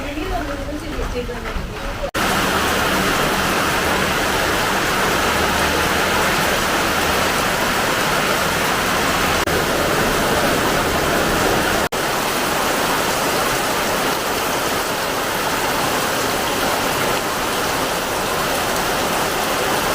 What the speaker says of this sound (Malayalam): എത്ര ശക്തിക്ക് മഴ പെയ്യുന്നു ഭയങ്കര